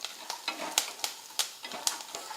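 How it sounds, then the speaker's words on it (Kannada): Curry leaves frying in ghee until crisp, a soft sizzle broken by sharp crackling pops and stirring scrapes at a steady rhythm, close and moderately quiet with no voices. "ಈ ಕರಿಬೇವು ಸ್ವಲ್ಪ ತುಪ್ಪದಲ್ಲೇ ಫ್ರೈ ಮಾಡ್ಕೋಬೇಕು."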